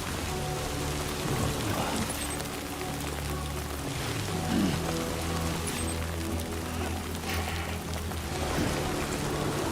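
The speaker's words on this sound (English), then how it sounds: "If you use your zoom in feature, you can hear the rain splash like in your ears." Steady rain splashes on surfaces in the video game Death Stranding 2, a dense close hiss of drops with faint low rumbling beneath, continuous and even throughout with no voices.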